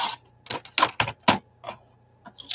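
Scissors snip through paper for a collage in a series of sharp, close crunching clicks, several quick bursts spaced unevenly across a quiet room.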